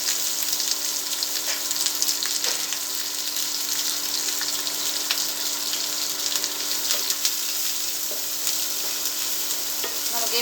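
Curry leaves and chopped onions fry in hot oil, a loud continuous sizzle and crackle with occasional scrapes of stirring, close up and without voices.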